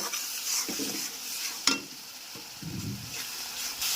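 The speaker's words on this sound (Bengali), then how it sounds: "এবার দিয়ে দিব আদা ও রসুন বাটা। এবার কষিয়ে নিব।" Ginger and garlic paste being stirred and fried in a pan while cooking a Bengali gourd and chana dal dish, with a steady soft sizzle and several scraping spatula strokes, one sharp clack near the middle.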